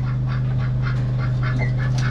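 Buff Orpington hens in a coop with a young rooster, soft repeated clucks and calls scattered over a steady low hum, moderately close.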